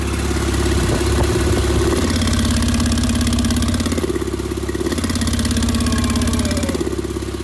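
A Porsche 911 Turbo with a straight-piped exhaust idles loud and close, its rumble rising and falling as the exhaust valve opens and closes several times in alternating stretches.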